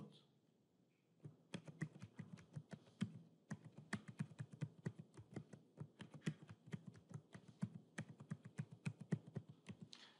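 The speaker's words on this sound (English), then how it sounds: "I will type the user to connect to SSH." Quiet, steady typing on a computer keyboard while entering SSH login details, with a brief pause before rapid, uneven key clicks continue closely miked and alone.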